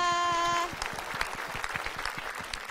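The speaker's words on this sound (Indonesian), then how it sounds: "tepuk tangan dong buat Afika" A studio audience on a children's TV show claps lightly for a young girl guest, soft scattered applause after a brief musical tone fades out.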